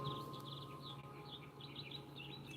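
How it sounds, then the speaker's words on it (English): Faint birdsong chirping outdoors, distant and continuous over a steady low hum. "Can you hear the birds?"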